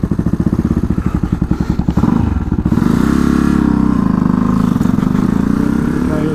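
A cold motorcycle is ridden to warm it up, its engine first thumping in a slow, loud idle, then revving into a continuous, close, throaty drone as it pulls away.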